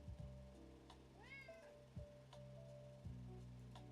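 A cat meows close by indoors, one clear rising-and-falling meow in the middle, with a steady electronic hum and a few faint clicks underneath.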